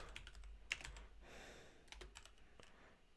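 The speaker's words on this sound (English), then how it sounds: "I'm going to go ahead and just type this out." Faint, quick keystrokes on a computer keyboard while code is entered in Python, a soft rapid patter of clicks with brief pauses.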